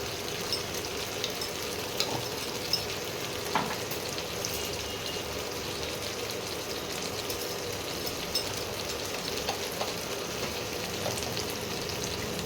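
Onion, garlic and ginger sautéing with ground spices in a pan for a spicy chicken curry give a steady, close sizzle and crackle that runs throughout, with occasional soft stirring scrapes and no talking.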